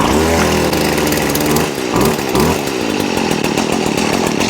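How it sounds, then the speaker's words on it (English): Stihl FS 70R string trimmer firing up after a pull start, its small two-stroke engine catching and sputtering, then revving hard into a loud, buzzing, fluctuating whine. "all I'm going to do is pull the unit, and once it gets fired up, I'm going to pull the throttle"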